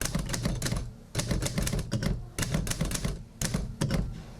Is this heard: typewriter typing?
yes